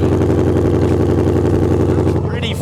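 A supercharged Ford Mustang GT engine runs loud and close with a steady low rumble throughout.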